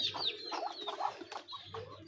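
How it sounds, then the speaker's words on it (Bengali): Chickens cluck and chatter near a village home, a cluster of short, close clucks and squawks running steadily over a couple of seconds with no talk. "এই মুরগি, মানে সব মুরগি আছে"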